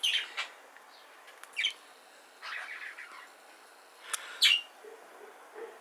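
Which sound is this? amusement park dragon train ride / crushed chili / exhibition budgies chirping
exhibition budgies chirping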